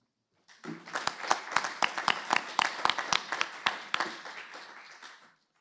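A small group applauds to approve two candidacies by acclamation at a municipal council meeting in Troinex, a few seconds of distinct, uneven hand claps that build quickly and taper off.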